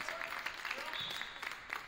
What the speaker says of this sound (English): Addie Supernan gets a nice round of applause